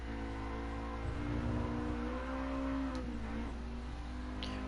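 Car engine revving in Gran Turismo Sport, a droning, fairly quiet engine note rising and falling in pitch as revs climb toward 6,000 RPM, with steady tonal hum throughout.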